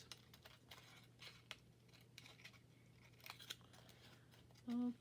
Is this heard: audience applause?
no